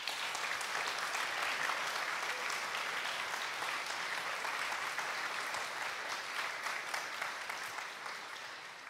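Audience at a symphony orchestra and laureates' concert applauding: thick, even clapping from a large crowd, sustained throughout and tapering slightly toward the end.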